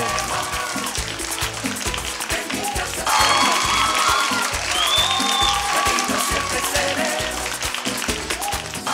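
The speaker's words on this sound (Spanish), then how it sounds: "Vamos a brindarle un fuerte aplauso a nuestro invitado" A talk show audience in the Dominican Republic applauds a guest, clapping mixed with crowd noise that swells louder partway through, with scattered cheers and whoops.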